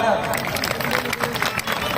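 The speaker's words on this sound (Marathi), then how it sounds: "जोरदार टाळ्या" A large crowd at a 6 December Mahaparinirvan Din gathering at Shivaji Park bursts into loud, continuous applause, mixed with crowd noise and the voice of an announcer speaking.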